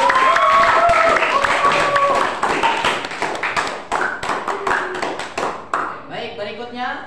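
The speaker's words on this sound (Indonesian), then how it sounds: "Tepuk tangan untuk Pasca." A classroom of students claps for a classmate, uneven bursts of hand claps that start under a voice and an overlapping tune-like chant, then continue as scattered rhythmic clapping that tapers off, close and loud.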